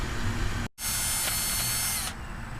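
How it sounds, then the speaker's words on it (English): Power drill boring pilot holes into wood, a steady high whine running about a second and a half after a brief pause, close and loud against faint background noise. "First, we're gonna have to pre-drill some holes in our wood."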